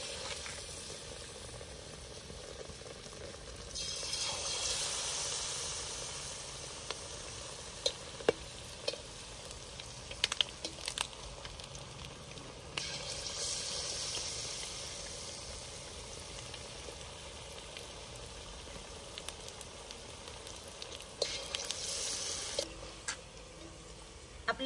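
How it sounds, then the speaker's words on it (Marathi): Cornflour-coated egg pieces deep-fry in hot oil in a kadhai, giving a steady, close hiss of bubbling oil with occasional light clinks of a spoon. "आपण आता डीप फ्राय करण्यासाठी ठेवत आहोत."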